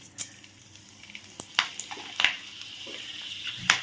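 Fenugreek seeds are tempered in hot oil with butter and dried red chilli for a soybean tadka, giving a low steady sizzle broken by a few sharp pops and utensil clinks at close range.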